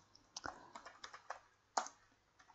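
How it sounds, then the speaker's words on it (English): Someone types on a computer keyboard, entering text into a Microsoft PowerPoint slide: irregular bursts of soft, close key clicks, with a sharper tap near the end, all fairly quiet and without speech. "I'm going to start typing."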